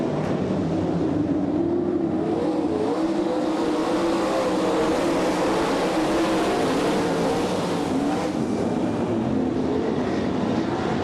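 A pack of race cars on an oval track roars continuously, engines droning loudly and steadily with no pauses, the sound dense and close throughout.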